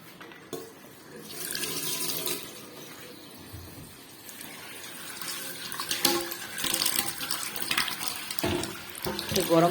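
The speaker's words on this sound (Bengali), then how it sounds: "গরম পানি দিয়ে ভিজাই রাখতেছি" Hot water runs from a kitchen tap into a big cooking pot set to soak, a close splashing stream that swells and changes pitch as the pot fills, with a voice talking faintly at times.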